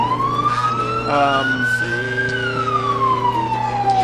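A police car siren wails steadily at a Christmas parade in Caryville, a loud rising-and-falling tone over low engine rumble, continuous throughout.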